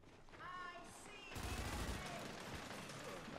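Rapid gunfire bursts in a ranked Gears 5 multiplayer match, loud and sustained after a quieter opening, with a player's voice over the fighting.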